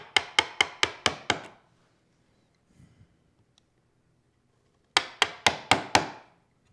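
A wooden mallet drives a chisel into wood while cutting a rabbet joint: two quick runs of about six sharp, evenly spaced knocks, close and crisp, separated by a few seconds of near silence with faint handling noise.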